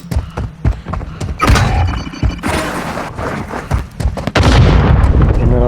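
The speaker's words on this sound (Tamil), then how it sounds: "என்னடா பாமெல்லாம் வெடிக்குது." Bomb and mortar strikes in the battle royale shooter Warzone Mobile land as a rapid series of loud, heavy booms and blasts, overlapping one another with rumbling low-end impacts and a sustained roar at the end.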